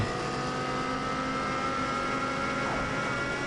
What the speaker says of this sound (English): Don't like hearing the sound of your engine.